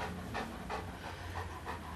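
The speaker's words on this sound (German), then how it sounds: "Oh, der ist aber ein schöner Hund." A dog pants close by in quick rhythmic breaths, faint and steady, with no one speaking over it.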